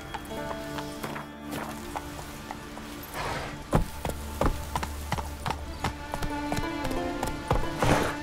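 Hooves of Roach, a horse in The Witcher 3: Wild Hunt, clip-clopping at a steady walk, with irregular, fairly close thuds over a low game ambience.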